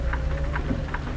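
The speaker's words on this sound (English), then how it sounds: "It's really raining here, right?" Heavy rain pours steadily in American Truck Simulator, a dense, even hiss with low rumble throughout and no voices, heard from inside a truck cab.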